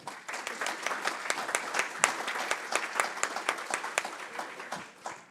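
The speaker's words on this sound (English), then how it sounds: "Deserve a round of applause" Conference audience applauds a panel of four speakers, a few seconds of crisp, dense clapping that swells and fades out at the end.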